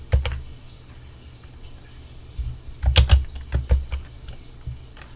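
Computer keyboard keys pressed during a Ctrl+C, Ctrl+V copy and paste, heard as scattered clicks: a couple early on, then a tight cluster of taps, followed by a few more spaced keystrokes.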